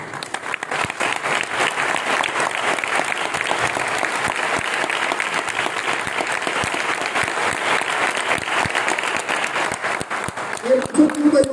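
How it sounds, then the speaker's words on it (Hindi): An indoor training-event audience claps loudly and continuously, a dense, sustained round of applause with some voices audible near the end. "मैंने कहा अपने आप के लिए जोरदार ताली बजाना"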